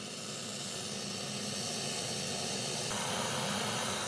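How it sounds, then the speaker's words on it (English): Boiling water poured from a kettle over well-toasted toast in a jug, a steady close hiss and rush of liquid that runs unbroken for about four seconds, shifting slightly near the end. "you have to pour boiling water over it"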